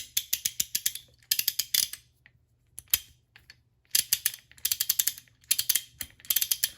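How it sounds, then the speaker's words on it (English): A Lexivon half-inch drive torque wrench's 24-tooth ratchet clicks loudly and close up, in several quick bursts of rapid ticks separated by short pauses. "so is the ratcheting mechanism from the teeth here. And by the way, it's got 24 teeth, and let me run that a bit."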